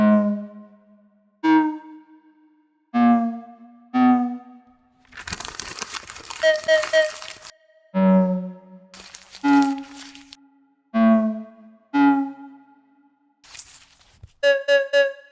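A synthesized melody plays in short plucked notes, some stepping in a regular rhythm, broken by a couple of longer noisy, crinkly textured passages.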